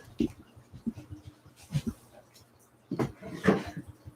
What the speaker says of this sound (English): Let me look over here in this drawer.